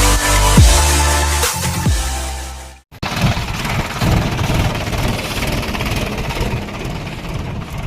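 Farm tractor engine idling nearby in a village while being loaded, a loud, rough, knocking rumble that briefly cuts out, then returns as a steady chugging throb.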